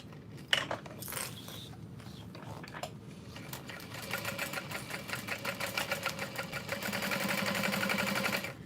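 Sewing machine stitching across a thick seam of a messenger bag, a steady rapid whirring rhythm that builds louder toward the end after a few starts, with light clicks early on.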